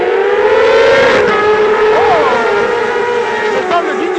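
Race car engines revving together on the grid just before the start of a 16-lap race at Pau-Arnos circuit in 2021, a loud sustained droning roar with rising pitch sweeps, with commentary voice over it.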